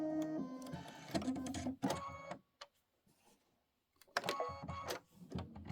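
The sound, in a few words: Kimberbell embroidery machine stitching a block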